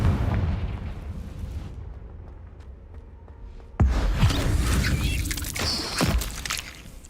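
A Confringo fire spell goes off as an explosion in the video game Hogwarts Legacy, a sudden loud blast midway that cuts through a low rumbling backdrop, followed by a crackling burst and fading rumble, with no voices.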